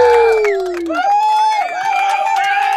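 Crowd cheering and whooping to welcome a guest from San Antonio on a minibike show, loud and sustained through the whole stretch with shouts layered over it.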